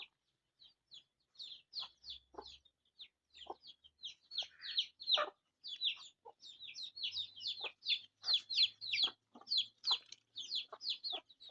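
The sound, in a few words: chickens clucking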